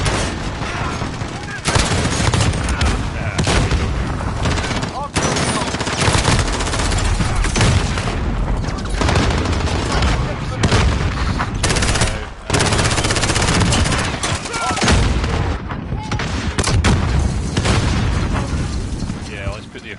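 Rapid bursts of gunfire and grenade blasts from the video game Call of Duty: Modern Warfare, loud and continuous across the whole stretch with brief drops between volleys.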